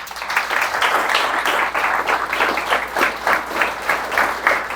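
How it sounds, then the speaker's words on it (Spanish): A church congregation claps together in a strong, rhythmic, pulsing burst of applause. It is loud and continuous across the short stretch, with no voices over it. "Eso merece un aplauso."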